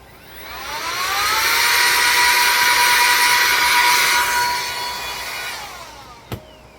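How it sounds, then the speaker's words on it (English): A loud, steady high-pitched whine of an electric air duster blowing continuously for several seconds, then cutting off with a brief click. "And I'll show you my air duster again."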